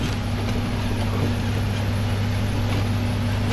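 A farm tractor with worn, broken piston rings on one cylinder runs steadily while planting a cornfield, a loud continuous engine drone with a low throbbing hum and no pauses.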